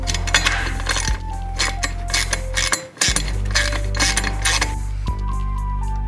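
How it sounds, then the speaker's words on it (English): Ratchet and Allen wrench tightening the bolts of a Custom Dynamics laydown license plate holder on a motorcycle: close metallic clicking and creaking in quick repeated bursts over a steady low mechanical hum. "Now we got our Allen wrench and our ratchet."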